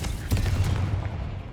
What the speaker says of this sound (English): Just the sheer explosion of bones.